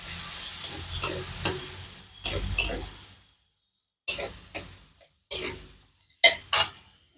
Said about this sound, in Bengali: একটু জল দিয়ে এখন মশলাটাকে মেরে মিশিয়ে নিই